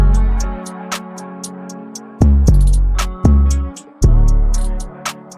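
Deep 808 bass notes boom beneath a vibey guitar beat, following the guitar chord roots in a pattern of long sliding hits with hi-hat ticks over them, loud and upfront.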